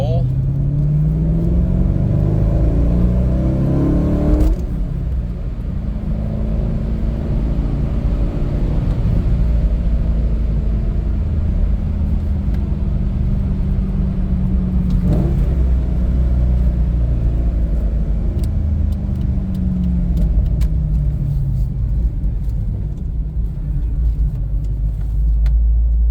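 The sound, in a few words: Corvette C5 Z06 engine accelerating in second gear roll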